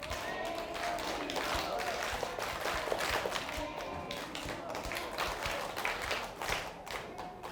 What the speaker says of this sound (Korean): 같이 우리 박수 치면서 대한민국 한번 외쳐볼까요?